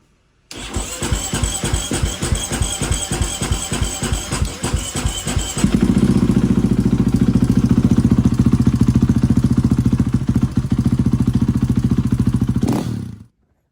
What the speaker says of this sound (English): Okay, now we're going to turn it on.